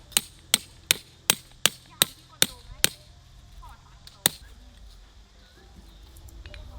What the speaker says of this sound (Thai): ตอกสมอทุกมุมคร่าวๆไว้ก่อน